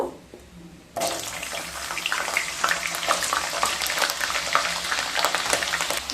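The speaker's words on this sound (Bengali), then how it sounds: "এবার একটা বড় সাইজের গাজরকে ভেজে নেব" A large carrot being fried in a pan for a mixed vegetable dish, starting after a quiet second with a sudden loud, dense hiss and crackle of hot oil that carries on steadily at close range.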